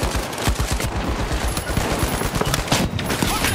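An automated turret in the shooter game The Finals fires a dense, rapid burst of gunfire that runs loud and continuous the whole time, with other gameplay noise layered around it.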